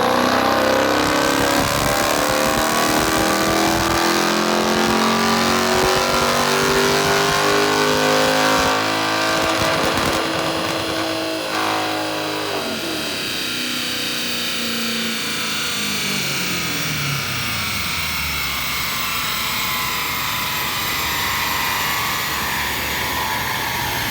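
A supercharged 6.4L 392 engine in a Ram truck revs hard on a dyno, a loud sustained roar climbing in pitch, then the revs fall away around the midpoint and it settles into a lower steady drone.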